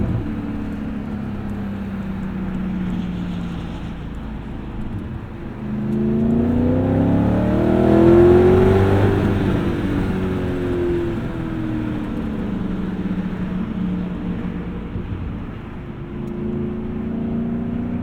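A 2002 BMW E39 Touring wagon converted to M5 spec accelerates hard, its engine note climbing and swelling loud before easing off into a steady drone.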